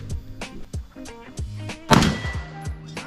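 A single sharp gunshot rings out at a paper target on a shooting range, one loud close crack with a brief echo, set among short instructor-style calls and background talk.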